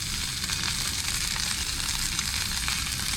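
Food sizzling steadily in a hot pan during cheese-topped dinner cooking inside a truck camper, a dense, continuous close crackle with no break or voices over it.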